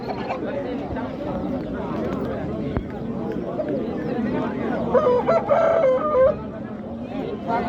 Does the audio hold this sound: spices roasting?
no